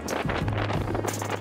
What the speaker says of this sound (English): This wind is quite heavy.